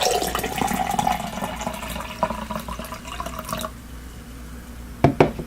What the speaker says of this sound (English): I'll try to pour them in this exact same time